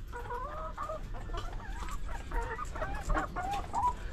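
Hens clucking inside a chicken coop being fixed up: repeated soft, nasal clucks and short calls from several birds nearby, steady and fairly quiet, with no talking.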